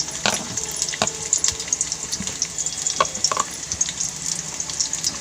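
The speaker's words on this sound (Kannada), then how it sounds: "ಇದು ಚೆನ್ನಾಗಿ ಫ್ರೈ ಆಗಬೇಕು" Chopped onion fries in two to three spoons of oil, a steady close sizzle with scattered pops and occasional stirring clicks.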